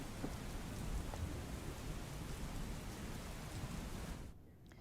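Heavy rain pours down on flooded Godhra, Gujarat, in a dense, steady hiss with a low rumble beneath, continuing without pause until it drops away just before the end.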